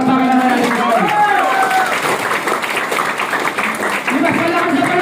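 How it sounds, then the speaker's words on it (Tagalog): Audience applause at a massage therapists' networking event, a dense wash of clapping with crowd noise, voices and a loud announcer-style talk riding over it throughout. "Palakpakan naman natin ko."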